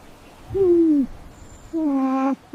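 A horned owl gives two deep, drawn-out hoots separated by a short pause. Each hoot is steady and clear, close by in a quiet setting.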